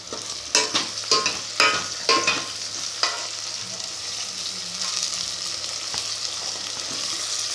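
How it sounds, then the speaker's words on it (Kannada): Tomatoes tossed into hot oil for a puffed rice snack, starting with a burst of sharp clattering spoon strikes and then settling into a steady close sizzle with occasional stirring scrapes. "ಈಗ ಟೊಮೊಟೊ ಹಾಕಿಕೊಳ್ಳೋಣ. ಸ್ವಲ್ಪ ಫ್ರೈ ಮಾಡೋಣ."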